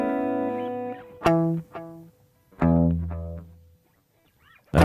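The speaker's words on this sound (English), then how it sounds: "So you got a basic single repeat echo." Electric guitar played through an effects pedal set to a basic single-repeat echo: sharp plucked notes and chords, each followed by one clear delayed repeat, with gaps of silence between phrases.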